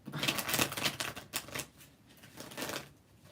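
Tarot cards being shuffled in quick riffling bursts, crisp and close, with a brief pause midway before another round of shuffling.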